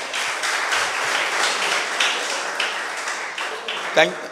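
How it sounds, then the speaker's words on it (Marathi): Sustained applause from an audience at a felicitation ceremony for coaches, dense and continuous, with a brief voice near the end. "बघा, टाळ्या वाजवा."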